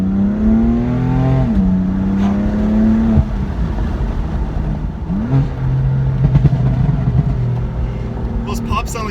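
Tuned BMW M4 with an Akrapovic exhaust revving loudly, the engine note rising and falling in sweeps, with a few sharp crackles near the end; a voice talks over it throughout.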